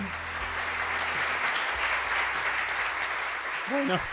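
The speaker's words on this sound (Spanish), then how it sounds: "les pido un fuerte aplauso para Martín Garrido" An audience at a talk on veganism and animal rights gives steady applause to welcome a speaker, a dense, even wash of clapping throughout, with a brief voice at the very end.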